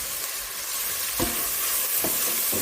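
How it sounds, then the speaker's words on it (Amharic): Spices fry in a pan, crackling and sizzling steadily close by while a spoon stirs and scrapes through them a couple of times. "ጠበስ አደርገዋለሁ።"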